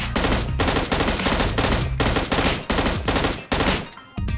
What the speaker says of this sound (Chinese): 大家可以从训练靶下方开始射击